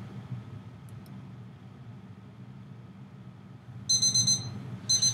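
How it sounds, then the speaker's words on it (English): A Chrome browser extension timer alarm goes off near the end, two bursts of bright electronic beeping over a steady low background hum. "you should hear my timer go off"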